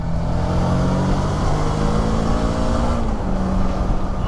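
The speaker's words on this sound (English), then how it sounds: "the engine is sweet as. It's so smooth. I'm really impressed with the motor." Suzuki V-Strom 650 motorcycle engine running steadily while ridden on the road, a loud continuous drone with smooth harmonic tones that shift slightly in pitch, heavy wind noise beneath, no talking.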